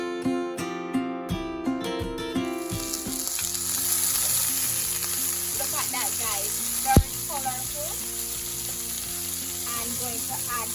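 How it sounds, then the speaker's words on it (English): Chicken pieces frying in a pan, heard as a continuous bright sizzle with occasional stirring scrapes and one sharp knock, steady and close throughout, no speech. "So you're going to leave the chicken there to cook until it is based on your liking."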